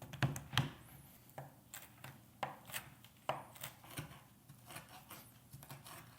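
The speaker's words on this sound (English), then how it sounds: "it's undeniably fun to chop needles with your kitchen knife" A kitchen knife chops through pine needles on a board, producing faint, close, irregular taps and clicks in small bursts, with no talking.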